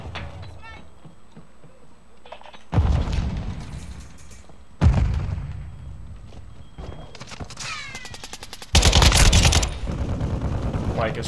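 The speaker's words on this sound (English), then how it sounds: "you can see a sniper shooting through here" Gunfire from the video game Call of Duty: Modern Warfare II, with loud bursts of rapid shots and booming reports separated by quieter stretches of game ambience, plus a voice talking over part of it.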